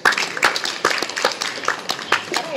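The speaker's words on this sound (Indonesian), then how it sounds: "Tepuk tangan dong." An audience claps for a runner in a small gathering, a scattered, uneven round of hand claps with distinct sharp hits repeating about every half second, moderately close with no voices over it.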